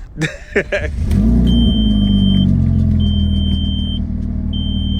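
A few clunks and knocks, then a twin-turbo Audi S4 engine turns over and settles into a loud, steady idle while warming up, with a faint high electronic beep repeating.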